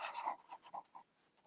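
A calligraphy nib pen scratches across paper up close, quiet and dry, in a quick series of short strokes that fade toward the end.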